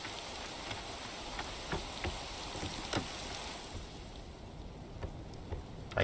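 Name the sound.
rain in the video game Rising World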